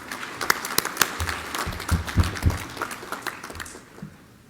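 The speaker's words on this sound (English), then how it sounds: "Please give yourself a big round of applause for everyone who is here today." An audience at a graduation event claps for the graduates, a moderate crowd of scattered hands building into steady applause that fades away near the end, with no voices over it.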